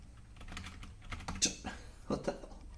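Fingers type on a computer keyboard in a quiet run of irregular clicking keystrokes, with a few louder taps clustered near the end.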